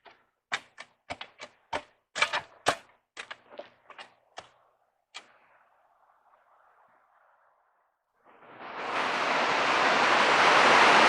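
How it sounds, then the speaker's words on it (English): Heavy rain suddenly pours down at an outdoor pole-building site where posts are being set, a loud, steady broadband roar that takes over after a run of sharp taps and a quieter spell. "It is raining like crazy."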